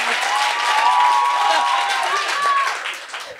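Audience applauds and cheers for a contestant named Rabi at a science-thesis competition, a dense steady wash of clapping with some whistle-like tones, sustained throughout and tapering slightly at the end.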